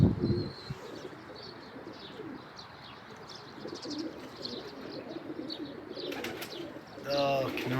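Pigeons and other pet birds in a home loft coo and chirp close by amid steady background noise, with a brief burst of wing flapping and someone speaking near the end.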